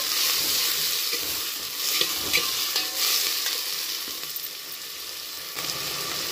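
Onions, green peas and chopped tomatoes fry in a pan while being stirred: a steady, close sizzling hiss with soft scraping and a few louder bursts as the mixture is turned, and no voices.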